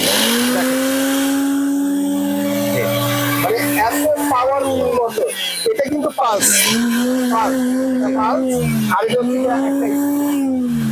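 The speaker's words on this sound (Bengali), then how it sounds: "আমি একটু চালিয়ে দেখাই যদিও আসলে ক্যামেরায় অতটা বোঝা যায় না ব্লেন্ডারের আওয়াজটা জাস্ট শোনানোর জন্য" A powerful commercial blender runs loud and close for about eleven seconds, its motor drone wavering and surging in pitch as the load shifts, with brief dips and jolts midway.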